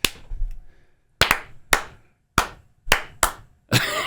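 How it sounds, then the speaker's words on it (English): Hands clap sharply in a played video, six loud distinct claps in an uneven rhythm, separated by near silence, ending in a burst of broader noise. "I like the clapping."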